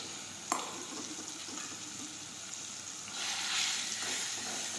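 Ground onion paste with hing sizzling in hot oil for bhindi gravy, a steady hissing crackle with one sharp clink near the start and a louder surge of sizzle later, close and without talk.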